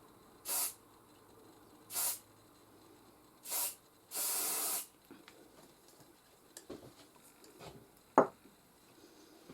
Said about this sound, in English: I'm just going to hold it in the air and glue spray it